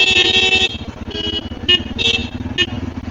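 Several vehicle horns honk in short repeated toots over steady engine rumble in a narrow, congested lane near a temple, close and loud, with overlapping beeps from cars and motorbikes.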